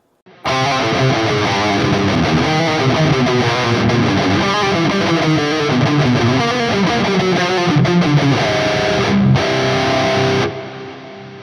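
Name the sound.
distorted electric guitar death metal riff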